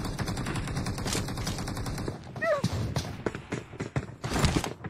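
Rapid video game gunfire crackles in bursts during an online multiplayer match, with repeated shots and thuds running up close and fairly loud throughout, and a short chirping electronic effect in the middle.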